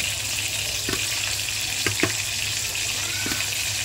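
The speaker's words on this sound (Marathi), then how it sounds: "थोडं टाकायचं आणि फ्राय करायचं।" Mushroom pakoda fritters frying in hot oil, a steady close sizzle with a few soft clicks and bubbling pops scattered through.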